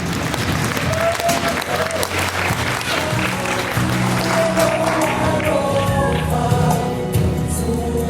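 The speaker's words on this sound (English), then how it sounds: "How about a round of applause for a beautiful MC?" A crowd applauds steadily with dense clapping at a Pacific Islander dance recital, and a voice speaks over the applause.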